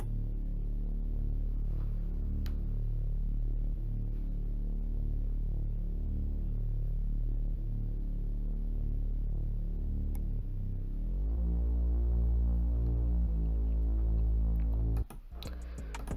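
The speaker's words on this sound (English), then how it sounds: "This is what the bass sounds like." Bass sample from a sample pack in a hard, wheezy hip-hop production style: a deep, sustained low bass tone that shifts to a new note near the end, loud and steady with no voices.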